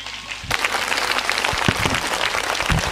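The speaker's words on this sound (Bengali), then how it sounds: "জোরে করতালি।" An audience at a freshers' welcome event breaks into loud, dense applause. Many hands clap in a sustained roar that starts abruptly and holds steady.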